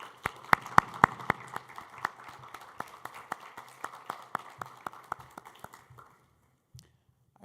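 Sparse, separate claps from a small convention audience after a lecturer's introduction, sharp individual hand strikes in an uneven rhythm that thin out and fade to silence after about six seconds.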